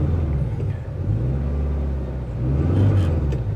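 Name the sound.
Toyota 86 car engine revving as clutch is released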